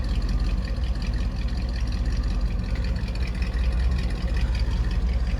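A 1963 Chevrolet Bel Air with a 327ci V8 and five-speed manual, restored frame-off, idles with a steady, deep, rumbling exhaust burble, close and constant throughout.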